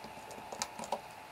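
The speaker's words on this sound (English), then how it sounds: "and I'm going to type" A few quick keystrokes on a computer keyboard tap out in a faint, close, uneven burst of light clicks.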